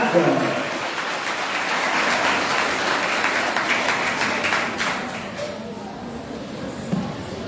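Audience applause at a school quiz final as a school captain is called forward, a sustained crowd of clapping hands that thins toward the end while voices carry faintly underneath.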